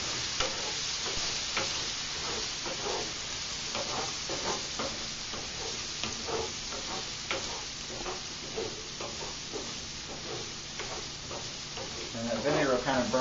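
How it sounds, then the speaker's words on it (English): Vinegar sizzles in a hot oiled frying pan with potatoes and onions, a steady crackling hiss broken by repeated stirring scrapes, close and continuous with no talk. "I'm going to do just a little bit of vinegar. It's going to make a sizzle sound."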